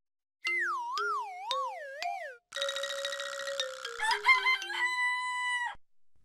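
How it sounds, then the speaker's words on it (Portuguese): A cartoon-style rooster crow for a children's music lesson: loud and alone, with wobbly sliding tones and bouncy boing-like effects rather than a natural bird. "agora vamos ouvir o galo Dodô cacarejando."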